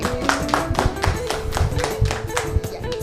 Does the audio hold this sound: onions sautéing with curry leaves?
no